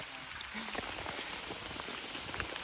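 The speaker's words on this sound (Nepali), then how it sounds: "पुरै पानी पर्यो यार" Heavy rain falling during a hike, a dense continuous hiss of drops pattering on surfaces throughout, fairly faint and steady, with no talking.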